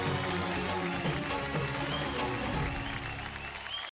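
Loud, steady applause from a studio audience on a Marathi television show stage, a dense wash of clapping that fills the whole stretch before stopping abruptly.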